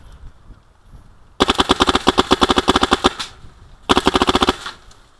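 A 2013 Proto Reflex Rail paintball marker with an aftermarket bolt fires semi-auto in a rapid string of sharp pops, then a shorter second burst after a pause, close and loud.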